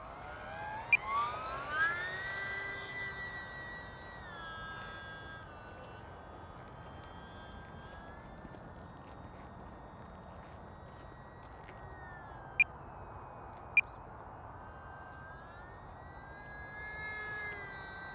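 E-flite UMX Turbo Timber X RC bush plane on 3S power in flight, its electric motor giving a steady high whine whose pitch rises and falls with throttle, heard continuously at moderate distance with a couple of sharp clicks.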